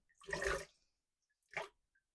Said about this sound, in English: as I'm just dropping it in more water